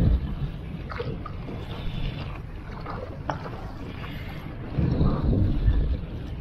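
Wind of 8 to 10 mph buffets the microphone in a constant low rumble, swelling into a stronger gust near the end, with water splashing faintly around a paddle board on Lake Arthur.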